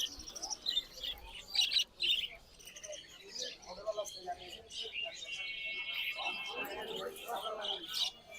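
Small caged birds at the Mirpur 1 bird market give bright, scattered chirps and tweets at close range, the calls coming in busy bursts while a person talks over them.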